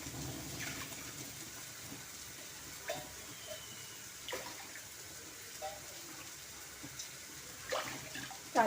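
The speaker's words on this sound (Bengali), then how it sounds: "চার কাপ জল দিয়ে দিলাম।" Four cups of water pour into a kadai, making a soft, continuous splashing stream with a few small clinks, fairly quiet and without talk.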